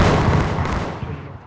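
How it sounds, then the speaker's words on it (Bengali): A bomb blast explosion in a video game, a dense rumbling boom that fills the clip and slowly fades over a second and a half, with no talk. "এখন আমি বম ব্লাস্ট করবো।"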